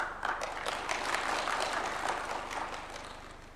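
A crowd at a State House justice council event in Kenya applauds the Chief Justice, with dense, steady clapping held at moderate level for several seconds and faint murmuring beneath it.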